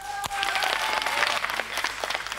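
Studio audience applause on a live French television show, a dense burst of clapping running throughout without talk.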